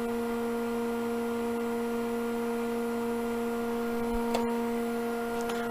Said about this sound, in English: I'm running the lathe at 60 RPM,